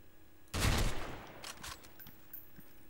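A sharp burst of sniper gunfire erupts, followed by a few fainter scattered shots, weapons firing in a video game.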